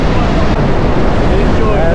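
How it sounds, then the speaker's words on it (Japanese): The main waterfall at Victoria Falls roars as a steady, dense, loud rush of falling water with wind buffeting the microphone throughout. "そしてここもメインの滝ですね。"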